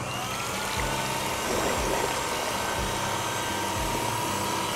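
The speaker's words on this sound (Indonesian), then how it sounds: "Putih telurnya kita mixer dengan kecepatan rendah dulu." An electric mixer whips egg whites at low speed with a steady, close, unbroken motor whir and a faint wet churning beneath it, with no voices.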